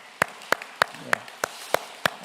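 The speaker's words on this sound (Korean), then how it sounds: "귀한 말씀 전해주신 우리 총회 하나님께 감사 박수 크게 올려드리겠습니다." A church congregation at a joint worship service claps together in unison. The claps are loud, sharp and close, coming steadily about three times a second.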